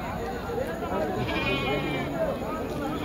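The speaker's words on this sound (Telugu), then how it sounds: "ఈ మేకలు కనపడుతున్నాయి ఫ్రెండ్స్" Goats bleating amid the bustle of a sheep and goat market, wavering cries overlapping a busy crowd and nearby talk.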